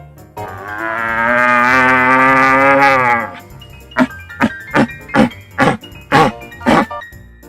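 A long, deep, drawn-out bellowing roar by a human voice imitating a stag, followed by a series of short grunting barks in a steady rhythm.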